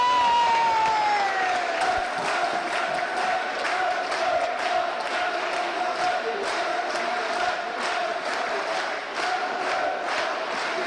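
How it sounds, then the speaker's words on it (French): An audience claps at a community gathering of people named Saint-Léger in Saint-Léger-le-Guérétois in 1999. Dense, sustained applause fills the whole stretch alongside a steady tonal hum or whistle, with a few faint crowd voices. "Et je crois qu'il mérite à nouveau tous vos applaudissements."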